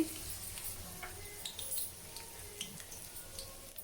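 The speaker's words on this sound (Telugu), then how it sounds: "ఈ ఆయిల్లోనే మనము పోపు వేసుకుంటున్నామండి ముందుగా ఎండుమిర్చి కొన్ని వేసేయండి" Dried red chilies sizzling in hot oil in a pan for an amla pickle tempering, a faint steady hiss with scattered small crackles and pops, no talking.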